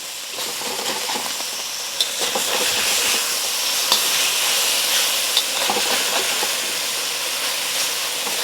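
Beef searing in a hot wok for a broccoli stir fry, a loud continuous hiss and sizzle close by with a few sharp pops and clinks, no talking.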